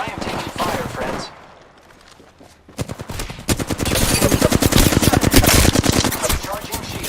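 Rapid bursts of automatic gunfire in a battle royale video game, loud and near, with a short lull before dense firing resumes; voices occasionally mix in.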